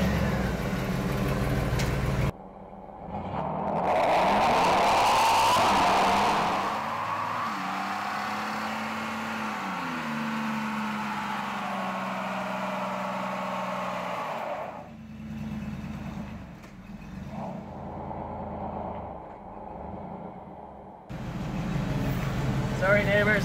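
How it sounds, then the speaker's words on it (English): A DawgStrip Gambler 500 build car doing burnouts, its engine roaring and revving loudly in sustained surges with pitch rising and falling, dropping back to idle between runs, with voices talking at times. "You wanted burnouts, so you get burnouts."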